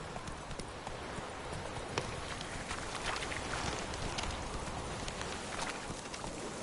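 A horse gallops in The Witcher 3 video game, a fast, steady clip-clop of hooves at moderate distance, fairly quiet and continuous with no talk over it.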